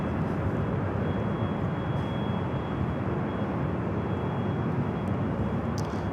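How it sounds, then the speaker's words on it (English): A Boeing 787 Dreamliner arriving at LAX makes a steady, broad jet roar that holds at an even level throughout, like a close approach. "The Dreamliner coming in from Tokyo to Narita"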